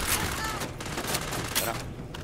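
Shotgun blasts in Starfield, several sharp bursts spaced about half a second apart amid ongoing combat noise, loud and close.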